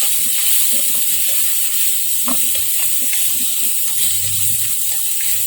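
Mushrooms and pepper cooking in a pan with little oil, a steady loud hiss of steam and sizzle with faint stirring scrapes throughout.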